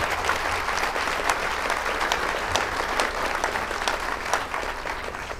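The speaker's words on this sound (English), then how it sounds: "Now that deserves an applause." A town hall audience at a State of the District meeting applauds, a dense, even wash of many hands clapping at once, loud and sustained for several seconds.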